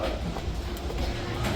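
Mine Train roller coaster at Six Flags Great Adventure, its train rumbling and clattering along the track in a brief, steady, moderately loud passage.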